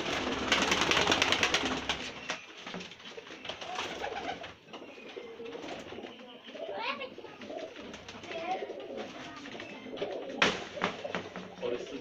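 Pigeons kept in a loft coo repeatedly at close range, soft rolling calls rising and falling over scattered wing flutters and shuffling, with a person talking at times in the background.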